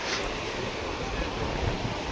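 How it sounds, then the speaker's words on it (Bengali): Sea waves and strong wind at a beach make a dense, continuous roar with heavy wind buffeting against the microphone, loud and steady throughout the short stretch. "দেখো কি সুন্দর হাওয়া, খুব সুন্দর ঢেউ"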